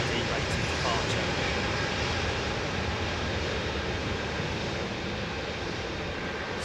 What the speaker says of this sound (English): Very derated departure.